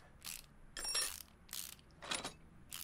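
Mechanical part removal from a car's brake system in Car Mechanic Simulator 2018, heard as four short bursts of clicking, ratcheting and metallic clatter spaced about half a second apart, moderately loud with quiet gaps between.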